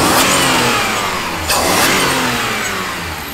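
Supercharged BMW engine revving hard as the throttle opens, a loud continuous mechanical roar with a sharp surge around the middle, close to the microphone with no talking.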